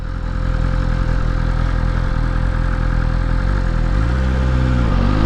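A BMW S1000RR sport motorcycle filters through traffic, its engine holding a steady, loud mid-pitched drone close by. The engine note rises and warbles briefly near the end, with no talk.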